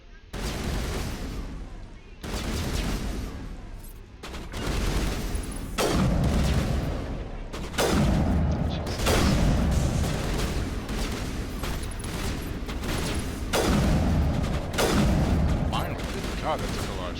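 Repeated bursts of heavy gunfire and booming impacts from Mass Effect Legendary Edition, each loud volley decaying before the next in a rapid sequence, with a voice talking over parts of it.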